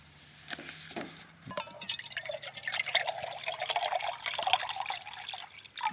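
Water is poured and collected at a camp on an island under a full moon to make hot chocolate, a close trickling and splashing stream with small drips that builds and wavers for several seconds.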